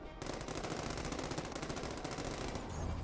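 Continuous automatic gunfire rattles from enemies shooting at the player in The Amazing Spider-Man 2 game, a dense, steady stream of shots at moderate loudness without pauses or voices.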